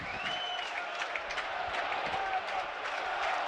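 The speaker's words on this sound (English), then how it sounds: "Crowd getting right behind them." Premier League football crowd at a Burnley v Southampton match swells with applause and cheering as Burnley win a corner, a broad roar under a commentator's voice.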